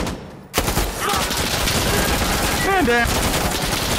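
Heavy, continuous automatic gunfire roars in a video game battle, loud and dense throughout, as someone briefly speaks over it.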